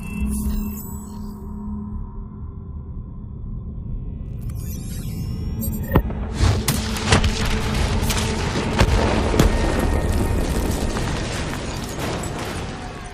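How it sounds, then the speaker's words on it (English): Detonation in the video game Call of Duty Black Ops 3: a loud blast around the six-second mark followed by sustained rumbling, crackling debris and repeated impacts, with no talk. "Detonate now!"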